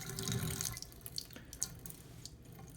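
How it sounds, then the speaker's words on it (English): Water poured out of a Zerowater filter pitcher splashes and trickles in a brief, steady stream that tapers into scattered drips. "I'm going to pour some of this top water out."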